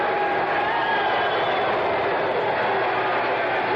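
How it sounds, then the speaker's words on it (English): A 1977 basketball arena crowd, New York Knicks at New Orleans Jazz, roars in a dense, steady wash of voices reacting to a punching foul, loud and continuous throughout. "The crowd doesn't like this."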